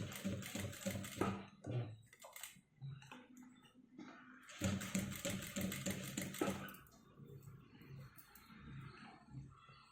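A sewing machine stitches piping onto cloth, running in loud, busy bursts that stop briefly around the middle and then start again.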